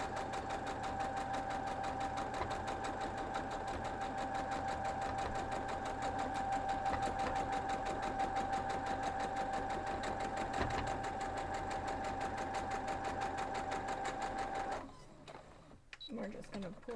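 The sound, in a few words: sewing machine stitching quilt block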